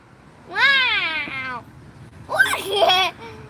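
A cat gives two clear, drawn-out meows close by, separated by a short pause, the second more wavering, in a quiet room.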